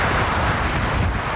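Strong wind at Minaret Lake in the High Sierra's Ansel Adams Wilderness roars steadily across the microphone as a loud, dense buffeting rush with no pauses or voices.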